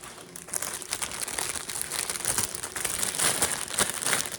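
A plastic bag holding packets of 6-inch spring twist braiding hair is handled close up, giving a continuous, fairly loud crinkling and crackling that lasts several seconds with no talking.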